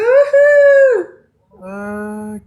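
A turkey sound alert plays during a livestream as two loud, drawn-out bird calls: a long warbling cry, a short pause, then a second, lower-pitched call, both crisp and close.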